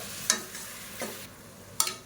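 Mushrooms sautéing with salt in a pan, with a soft sizzle broken by three distinct scraping strokes of a spoon against the pan.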